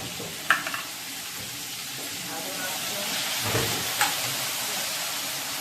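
Chilies fry in a hot pan with a constant close sizzling hiss, a few sharp clicks and clatters on top, and faint voices in the background.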